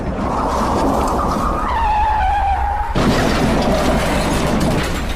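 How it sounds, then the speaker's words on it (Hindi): A cartoon car skids with a long, loud tire squeal that bends in pitch, then cuts into a sudden crash and a harsh, noisy rumble that continues to the end. "जिसके कारण गुल्ली के गाड़ी का एक्सीडेंट हो जाता है।"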